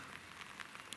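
Rain falling in Switzerland, a soft continuous hiss of drops on surfaces, faint and steady throughout with no talking.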